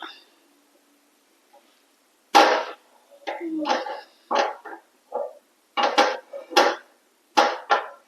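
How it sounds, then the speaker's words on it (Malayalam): An unniyappam pan is set on a lit stove, giving a series of separate metallic clunks and knocks with short gaps between them, close and fairly loud. "നമുക്ക് സ്റ്റൗ കത്തിച്ചിട്ട് ഉണ്ണിയപ്പച്ചട്ടി വെച്ച് കൊടുക്കുക"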